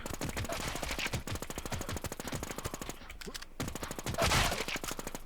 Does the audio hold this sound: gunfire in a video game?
yes